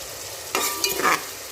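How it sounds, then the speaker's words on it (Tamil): Chopped onions sauté in hot oil, a low hiss broken by a brief burst of spatula stirring and scraping in the middle, close and unaccompanied by speech. "வெங்காயம் நல்லா கலர் சேஞ்ச் ஆகிற வரைக்கும் நல்லா வதங்கட்டும்."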